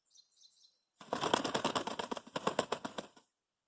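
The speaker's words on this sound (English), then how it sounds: "If your bird ever does start to flap like that, it's important that you don't damage their feathers." A show poultry bird held during 4-H showmanship handling bursts into about two seconds of rapid, rhythmic wing flapping, close and fairly loud, after a few faint chirps.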